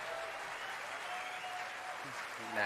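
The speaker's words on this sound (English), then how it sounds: "And he's getting the crowd to cheer." Crowd applause and cheering at the 2023 World Snooker Championship final for the new world champion, a steady mid-level wash of clapping that swells louder at the end, with a faint voice underneath.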